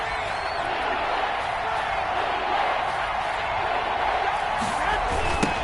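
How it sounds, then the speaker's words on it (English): A football stadium crowd roars steadily during a late-game defensive stand, a dense sustained wall of noise with scattered whoops and shouts, loud and continuous throughout. "this crowd urging on their defense"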